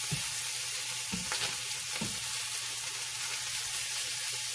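Corned beef hash fries in a pan with a constant, close hiss of sizzling fat and a few soft stirring scrapes, with no talking.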